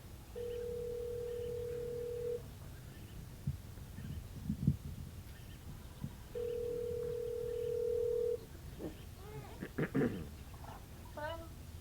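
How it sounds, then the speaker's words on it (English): Telephone call being placed, with two long steady dial-tone-like tones separated by a pause, followed by a cluster of short electronic beeps and chirps, fairly quiet over low background noise. "I actually have to make a phone call."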